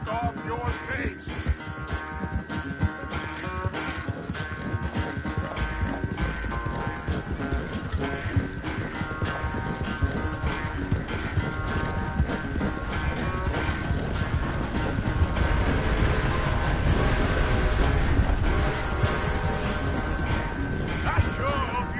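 Horse hooves clip-clop in a steady gait beneath loud music and tack rattle in Red Dead Redemption 2, the rhythm continuing throughout and growing busier toward the end.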